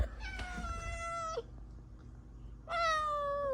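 A cat gives two long, close meows, the first drawn out for more than a second and the second starting after a short quiet gap, heard alone with no talking.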